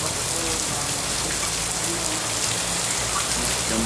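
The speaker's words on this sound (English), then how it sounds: "This rain not letting up." Heavy rain pours steadily in a remote corner of the Philippines, a dense, constant hiss of drops on surfaces with no voices, close and unbroken throughout.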